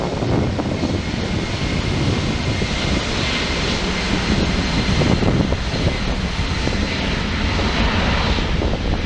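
An Airbus A321 jet airliner on final approach at Los Angeles International Airport gives a loud, steady broadband engine roar that holds for the whole span, with no talk over it.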